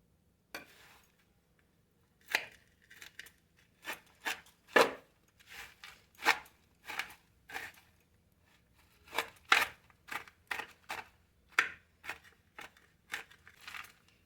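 Dry fruits are chopped into small pieces on a board with a knife for laddu. Around twenty crisp, close knife taps come in uneven bursts separated by brief quiet gaps.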